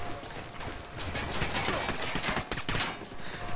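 Dense, continuous gunfire from the tactical shooter Ghost Recon Wildlands, a rattling fusillade of many overlapping shots at fairly close range, with speech mixed in.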